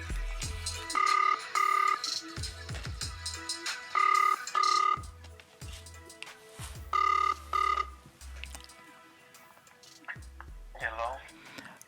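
An outgoing telephone call rings back in repeated double-ring bursts, loud and close, with brief pauses between each pair of tones and low background noise.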